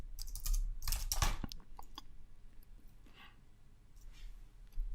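A password being typed on a computer keyboard, a quick burst of several key clicks early on followed by a few sparse, quieter taps, close and faint with no talking.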